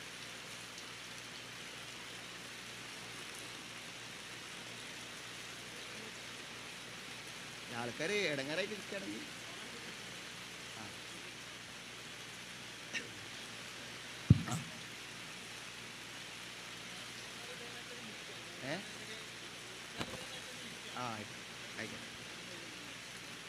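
Steady rain falls outdoors during an open-air Quran lecture in Kerala, a continuous soft hiss under a man's amplified speech, with a few louder knocks and rustles.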